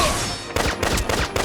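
Gunfire in the video game Valkyria Revolution: after a sustained bright electronic tone, a rapid burst of repeated shots rattles on in quick succession, loud and close against a busy game soundtrack, with no speech.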